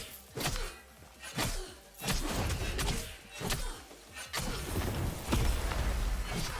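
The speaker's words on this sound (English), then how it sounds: "I think that the explosion is just a little bit too loud" Explosions in the video game SLA, a run of heavy booming thuds and crashes repeating every second or so, loud and close with rumbling tails between hits.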